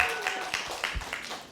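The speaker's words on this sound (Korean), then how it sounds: "우리 저 친구를 위해서 박수 한번." Brief scattered clapping from a small audience at a musical theatre master class, a few faint soft claps spread over a moment, with talk around it.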